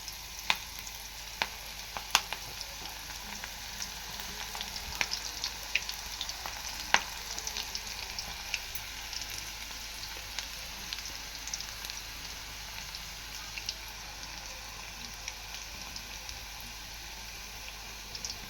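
Ragi flour pakoda batter frying in hot oil makes a steady, close, hissing sizzle with scattered small pops and crackles throughout, no voices over it.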